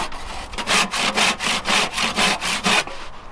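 A hand saw cuts through wood for a mountain bike kicker ramp, roughly eight loud, even rasping strokes back and forth in steady rhythm, close by and alone.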